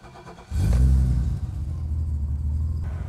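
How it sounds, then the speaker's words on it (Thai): A 1986 BMW E30 325 coupe with a full Hartge build fires up close by, catching with a sudden burst and a brief rev before settling into a steady, deep idle rumble. "เดี๋ยวขอลองสตาร์ทเครื่องดู"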